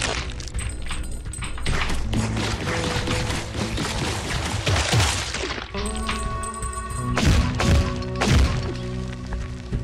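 Weapon fire in the game Ghost Song, heard as repeated sharp cracks and thumps in irregular bursts over a busy, loud backdrop of game music and effects.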